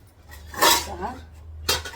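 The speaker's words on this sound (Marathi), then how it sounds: "हे बघा मी प्रत्येक वस्तू स्टीलच्या भांड्यात काढते." Steel vessels and utensils clink as freshly cooked potato and spinach dishes are transferred, with two sharp metallic clatters close by, separated by a pause.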